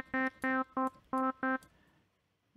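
Five short buzzy sawtooth synth notes from Native Instruments Massive in a choppy rhythm, low-pass filtered, muffled and dull with the upper edge rounded off, then fading to quiet.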